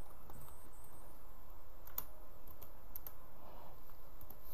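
Quiet, rapid clicks of keys being typed on a computer keyboard, faint and close, over a steady background hiss.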